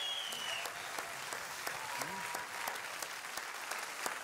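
Studio audience on a German game show applauds steadily, a dense even wash of clapping at moderate distance with a few sharper individual claps and faint voices underneath.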